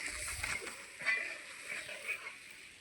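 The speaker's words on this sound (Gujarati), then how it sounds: "પાણી ઉકળે એટલે એમાં કોફતા એડ કરવાના છે" Bottle gourd koftas are dropped one after another into boiling water, giving soft splashes and sloshes that come close and quiet.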